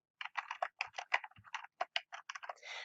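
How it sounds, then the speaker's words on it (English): Close, crisp keystrokes on a computer keyboard as a web page title is typed, an irregular run of quick taps with brief pauses, alone and fairly quiet. "So I'm going to type that in."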